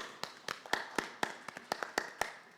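Sparse applause at the Africa Agriculture Dialogue 2025 conference: about ten distinct, fairly close hand claps in a loose, uneven rhythm, as if only a few people are clapping.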